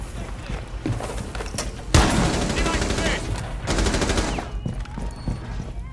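Gunfire from a shotgun in the video game Rainbow Six Siege: a sharp, loud blast near two seconds, then a cluster of rapid shots around four seconds, over steady in-game background noise.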